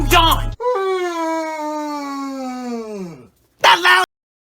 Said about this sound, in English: That loud yawn.